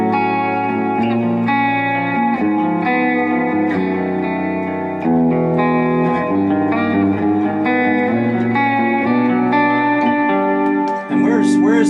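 An electric guitar played through a vibrato pedal holds sustained chords with a wavering, pulsing pitch wobble and a wash of reverb, ringing steadily throughout.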